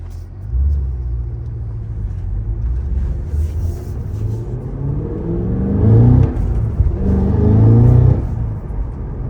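Cadillac CT5-V Blackwing with a six-speed manual revs its engine for rev-matched downshifts, a deep close rumble that swells twice in quick blips near the end, heard from inside the cabin with no talk.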